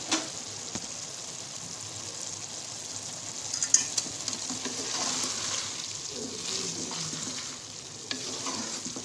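Cauliflower, green onion and cabbage fry in a pan while being stirred, a soft continuous sizzle broken by scraping and clinking stir strokes, close and fairly quiet.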